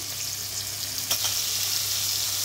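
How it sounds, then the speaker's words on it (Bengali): Prawns shallow frying in a little oil in a pan, a continuous close hiss of sizzling with a brief stir partway through, no voices. "চিংড়ি মাছটা একটু ভেজে নিতে হবে, অল্প করে ভাজতে হবে"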